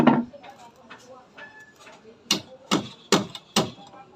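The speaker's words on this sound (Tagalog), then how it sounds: "Martilyo lang gamitin mo. Papasok na yan." A hammer taps a sealed bearing into the knuckle of an e-bike, five or six sharp, close knocks spaced at a steady pace, the last four loudest, over a quiet background.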